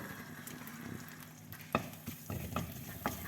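Cumin seeds fry in a mix of oil and butter for rajma masala. A soft sizzle runs underneath, broken by sharp, irregular crackles and pops near the pan, with no talking.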